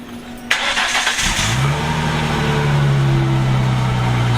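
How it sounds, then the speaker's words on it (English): An old Ford Mustang engine cranks briefly, catches, and settles into a steady, loud idle close by. "I'm going to fire up the old Mustang"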